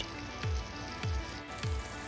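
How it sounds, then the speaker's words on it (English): Onions frying in oil in a pot, a steady crackling sizzle with a few low, periodic thumps underneath; fairly quiet and close. "That's the onions in the pot frying, looking good."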